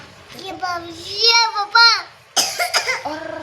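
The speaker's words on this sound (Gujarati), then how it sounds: "ખાતા ખાતા નો બોલાય ઉધરસ આવી" A child coughs a few times in quick bursts while eating, close by, mixed with a child's vocal sounds and a short whimpering tone.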